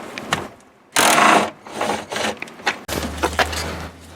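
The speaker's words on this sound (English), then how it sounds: "you take all the bolts out of around the perimeter of the clutch cover" Bolts are worked out around the perimeter of a P90X clutch cover with a ratchet, giving close bursts of metallic clicking and scraping in uneven spurts, ending with a low steady hum underneath.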